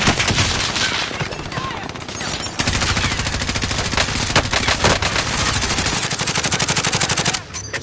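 Loud, sustained automatic gunfire from a PS4 shooter game rattles in rapid continuous bursts with brief gaps, close and dense throughout, with a voice talking underneath.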